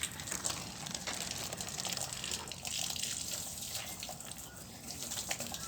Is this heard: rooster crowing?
no